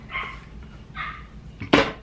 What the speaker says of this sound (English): I wonder what they're barking at.